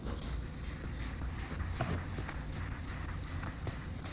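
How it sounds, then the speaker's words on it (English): Steady, soft scratchy rubbing of fine-grit sandpaper wet-sanding a plastic car headlight in one direction, with faint regular strokes, close and quiet. "So first I'm going to start by sanding in one direction."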